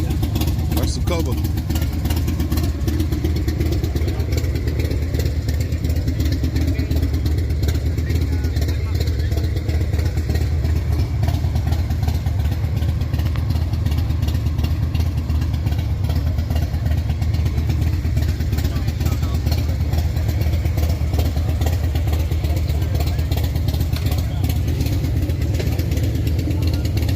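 A Victory motorcycle engine idles nearby with a loud, steady low rumble throughout, and people talk over it.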